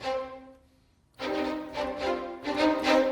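A sustained orchestral string note fades, then after a brief pause a run of short, bouncy spiccato string notes follows in an uneven rhythm.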